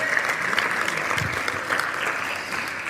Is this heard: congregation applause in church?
yes